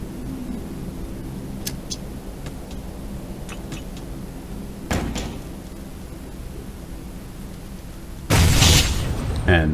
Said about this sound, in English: And that's how you throw grenades.